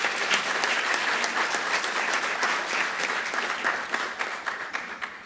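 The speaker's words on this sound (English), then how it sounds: "A round of applause, please." An audience at an engineering conference applauds steadily, a dense, even roar of many hands clapping that carries throughout and tapers slightly toward the end.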